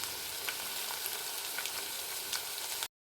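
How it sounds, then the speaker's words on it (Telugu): Vegetables for a veg biryani frying in a pan give a steady, close sizzle with a few faint crackles for about three seconds before it cuts off abruptly. No one speaks. "హాఫ్ బాయిల్ అయ్యేంత వరకు మనం ఫ్రై చేసుకోవాల్సిందే."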